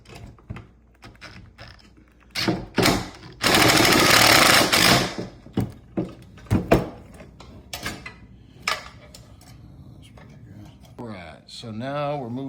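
Bolts and lock nuts tightened on a motorcycle luggage rack for a 2025 Harley-Davidson, heard as a series of short metallic ratcheting bursts and clanks, with one longer grinding stretch, while someone talks between them.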